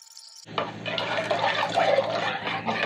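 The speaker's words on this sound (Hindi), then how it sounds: "कड़ी के लिए जो बैटर बनाया था वो डालते जाएंगे" Thick kadhi batter pours steadily into a pot with a wet, gurgling splash, continuous and close, starting abruptly after a brief moment of quiet.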